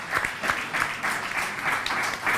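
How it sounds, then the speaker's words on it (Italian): An audience applauds the sports clubs at an event, producing rhythmic, pulsing clapping with a few hands in unison, steady throughout this short stretch. "L'applauso è andato doppio, anche se non l'abbiamo chiesto"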